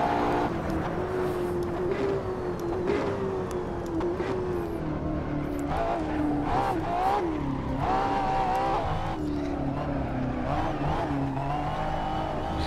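A Ferrari accelerating hard with its rear wheels slipping and traction control off, the engine note rising and dipping through gear changes, heard close and continuous with a faint squeal of tires.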